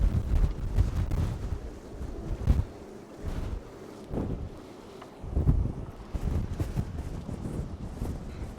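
Strong stormy wind buffeting a boat heeling over in rough weather, a continuous low roaring rush with gusty swells and rumble, loud and close to the microphone, with no voices.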